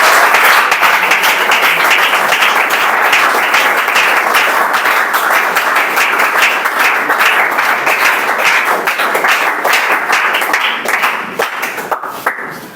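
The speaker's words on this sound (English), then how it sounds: "Clap for it." Sustained loud applause from an audience of schoolchildren at a motivational speech event in Begusarai, dense clapping filling the whole stretch and tapering slightly at the end.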